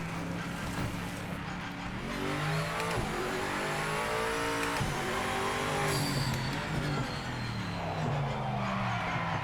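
BMW M8 GTE race car in Project Motor Racing at the Nurburgring, its engine revving loudly through gear changes with rising and falling pitch sweeps and brief tyre squeal, continuous throughout with no talk.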